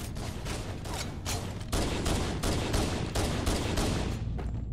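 Pistol shots ring out in a Halo MCC multiplayer close-quarters match, a run of sharp, evenly spaced reports over dense game noise, loud and near with no voices.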